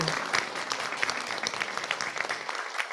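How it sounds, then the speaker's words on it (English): An audience at an age-friendly cities conference session applauds the speakers, a steady, dense patter of many clapping hands that fades slightly toward the end. "a round of applause for the speakers, please"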